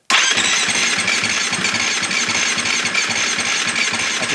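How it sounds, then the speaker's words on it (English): A KTM 350XCF dirt bike engine cranks over on its electric starter in a fast, even chugging rhythm, loud and close, trying to fire but never catching throughout. "I can hear it turning over a little bit easier."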